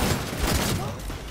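Gunfire in the video game Cyberpunk 2077 erupts in a dense, continuous rattling burst of loud shots, close and unbroken throughout.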